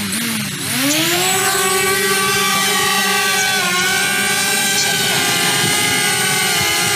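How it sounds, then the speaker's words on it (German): A DJI Spark quadcopter's motors whine up in pitch as it takes off automatically, then hold a loud, steady buzzing hum close by. "Zum Beispiel kann man die Drohne automatisch starten lassen."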